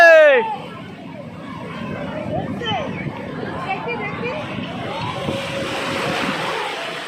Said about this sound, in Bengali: ঢেউ আসছে ঢেউ আসছে ঢেউ আসছে